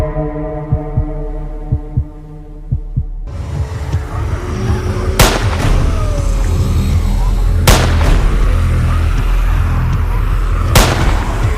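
In a zombie scene, a low throbbing hum and soft pulses give way to a rumbling backdrop punctuated by three loud, isolated gunshots spaced a few seconds apart.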